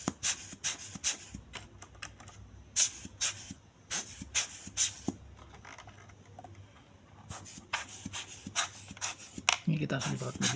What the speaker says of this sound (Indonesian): Kita bersihin dulu pakai semprot gini ya.